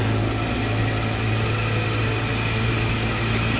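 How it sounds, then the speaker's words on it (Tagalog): A tourist train's engine drones steadily and loudly, with a buzzy, motorcycle-like tone that stays constant and close throughout. "Ba't yung tren tunog motor?"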